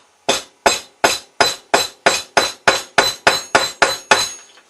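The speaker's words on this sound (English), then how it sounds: "My method of which I use to flatten this is with a hammer and a small steel block." A hammer strikes leather laid on a small steel block, twelve sharp, evenly spaced metallic blows in steady rhythm, loud and close with no talk.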